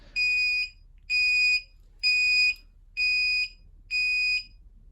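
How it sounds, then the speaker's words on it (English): Five identical high-pitched electronic beeps from an Indesit Moonie washing machine signalling the end of its cycle, evenly spaced about a second apart, ring out loud and clear over near silence. "It doesn't tell you it's ended apart from the beep"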